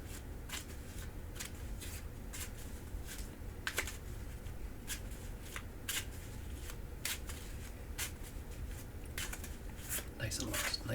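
Playing cards being shuffled close up during a pawn shop roleplay, a run of quick, crisp riffling bursts repeated over and over under soft, quiet speech.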